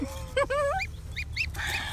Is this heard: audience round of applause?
no